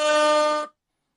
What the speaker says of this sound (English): That's the air horn of truth.